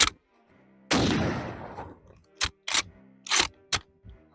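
Mosin Nagant rifle shots in a video game: one loud, close blast with a long reverberant tail, then several sharp clicks of bolt and handling noise, no talking.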